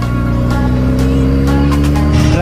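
Mumbai city road traffic on the way to Chor Bazaar, with metro construction nearby: a close, loud, steady engine drone with the rising revs of a motorbike or car and traffic noise throughout, and no talking.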